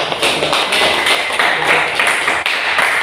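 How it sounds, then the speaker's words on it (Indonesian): Applause for a group of students during a classroom teaching practice session, a dense, steady wash of many hands clapping close by, continuing without a break. "kita berikan aplaus untuk kelompok 2"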